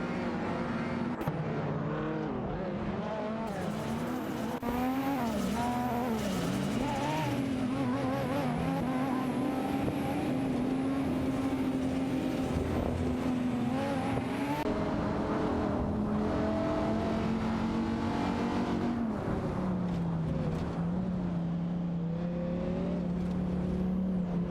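Race cars, among them a Dodge Viper GTS, roaring steadily around a circuit in a racing video game, engines whining and shifting pitch as they accelerate and jostle for position, loud and continuous throughout with no talk.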